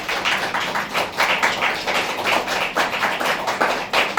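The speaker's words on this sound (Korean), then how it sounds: "꽃다발 받을 때 박수 좀 쳐주시면 좋겠습니다" Church congregation at a Christmas service clapping during a flower bouquet presentation, a steady, fairly loud patter of many hands with a rhythmic pulse, almost no talk.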